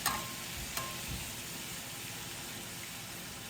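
Onions simmering in broth in a pot make a faint, steady bubbling hiss, with a couple of soft clinks near the start.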